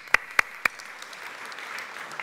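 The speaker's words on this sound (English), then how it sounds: "a warm applause for that" A conference audience applauds after a talk at CAETS 2019: a few sharp, close claps at the start, then soft, diffuse clapping from the room that continues steadily.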